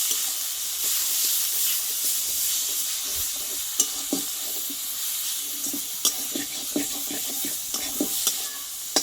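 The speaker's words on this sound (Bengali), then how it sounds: "কুমড়োর পাতা বাটাটা আমি এবার দিয়ে দেবো দিয়ে ভালোভাবে এই তেলে একটু ভেজে নেবো এইভাবে" Ground pumpkin leaf paste fries in hot oil in a pan, a soft continuous sizzle broken by scraping stirs and occasional light clinks of a spoon against the pan.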